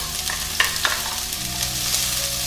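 Shallots sizzle and fry in sunflower oil in a hot wok, with a couple of sharp scraping stirs over a steady, close crackle.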